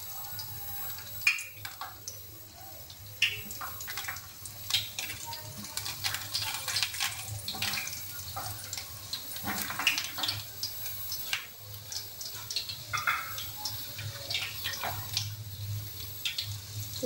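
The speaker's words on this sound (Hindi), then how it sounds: "इन तमाम रोल को शेप दे लिया, अब हम इसे डीप फ्राई नहीं करेंगे, शेलो फ्राई करेंगे।" Yogurt rolls shallow fry in hot cooking oil, giving a steady sizzle with scattered pops and crackles heard up close and alone.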